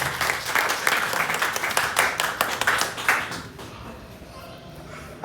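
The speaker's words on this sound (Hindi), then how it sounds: "मैं एक बार चाहूंगा कि आप मैडम का जोरदार ताली बजाकर के उनका स्वागत करें" A crowd claps in welcome for the madam at a retirement farewell party, a dense burst of many hands that fades away after about three seconds, with a few voices in the background.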